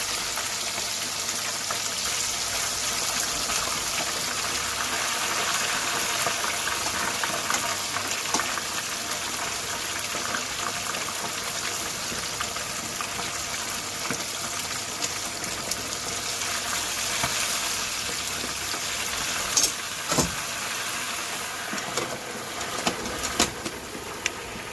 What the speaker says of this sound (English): So I'm frying that in my fryer.